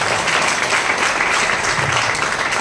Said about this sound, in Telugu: సో మరి ఒక్కసారి దానికి క్లాప్స్ ఇస్తారా?